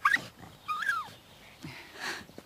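Small pug dog whimpering in a palace setting, a few high, thin whines and wheezy cries in short separate bursts, fairly near and alone.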